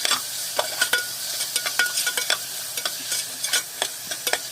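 Tomatoes sautéed with ginger and garlic for mutton soup sizzle steadily in a pan while a spoon stirs and scrapes in repeated clinking strokes, close and clear with no voices.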